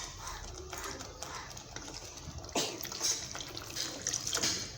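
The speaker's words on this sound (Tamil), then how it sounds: "நான் மிக்ஸி ஜாரை அலம்பிட்டு தண்ணி சேர்த்துக்கிறேன்." Water splashes and trickles as a mixer jar is rinsed and the water poured into a pan of paneer gravy, with clattering handling noises; the sound is close and moderately loud, with a sharper splash midway through.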